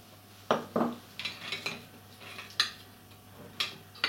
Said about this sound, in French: on va couper les anchois en 3